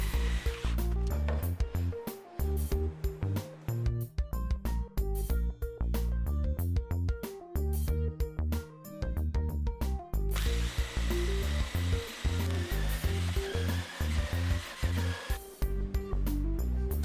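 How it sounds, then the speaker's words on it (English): Jigsaw cutting through wood in a workshop, a harsh buzzing rattle that runs almost without a break, close and loud, with short dips as the blade slows and no voices. "I made the cuts on the jigsaw, which is probably the most inaccurate tool in the shop."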